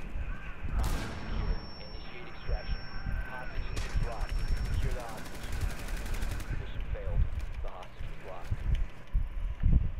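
Gunfire rattles through a Rainbow Six Siege match, with bursts of shots and mechanical clatter scattered across the scene while players talk over it.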